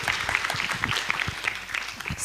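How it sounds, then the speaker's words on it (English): Audience applause at an international seminar on gender and international relations: light, scattered clapping from a modest crowd, steady and fairly faint for a couple of seconds. "Please give applause for her."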